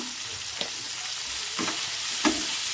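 Chicken for hotel-style chicken 65 fries in oil with a steady, even sizzle and a few soft stirring knocks, close and alone without talk.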